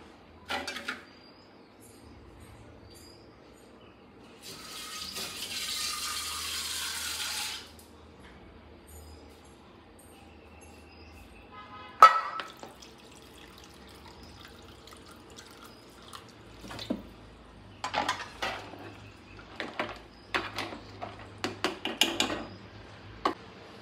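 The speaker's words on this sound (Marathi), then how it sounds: "थोडंसं पाणी घालावं लागेल आपल्याला." Water is poured into a pot of spicy black crab curry being cooked at home: one steady, splashy pour of about two seconds, followed later by soft stirring, drips and clinks of utensils.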